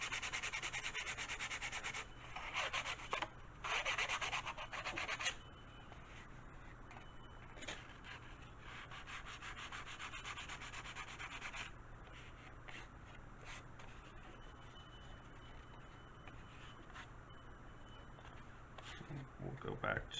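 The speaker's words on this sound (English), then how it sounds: "You may also wish to sand the underside." Sanding the trailing edge of a model aircraft wing: steady, close abrasive rubbing strokes run for about twenty seconds, with louder bursts near the start and a lighter, even scraping after.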